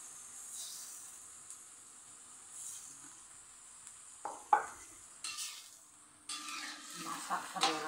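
Water poured into a pan of sizzling eggplant and shredded chicken brings soft, faint frying hiss that swells into sharp bursts of sizzle and steam, with scraping stir strokes near the end.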